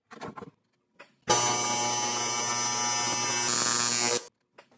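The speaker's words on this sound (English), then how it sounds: "So I'm going to put a tack weld on the far end." A single tack weld on clamped aluminum gives a loud, steady electric buzz that lasts about three seconds and then cuts off, with a few faint clicks before and after.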